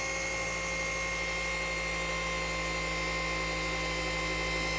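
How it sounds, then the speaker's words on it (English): Cordless car paint polisher running at correction speed with Koch Chemie P3 01 Micro Cut and Finish on a panel, battery starting to die; a steady, continuous machine hum and whir that holds evenly throughout, with no talk. "Correction speed, moving the polisher an inch every second or two."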